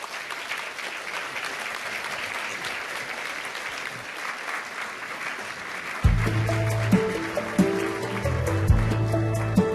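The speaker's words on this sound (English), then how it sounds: "Let's give one more round of applause to our panelists." An audience at a 2019 mayoral summit on housing, transportation and jobs claps for the panelists in a steady, dense round of applause. Later a low hum and a few voices join in under the clapping.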